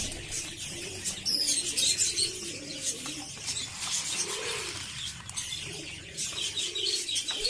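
Pigeons in a backyard loft coo in low, rolling phrases with occasional wing flaps and small chirps, the birds close by under a steady hiss of ambient noise.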